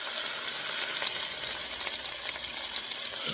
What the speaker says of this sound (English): Want that sear on there. That's why we're cooking it right now on medium high.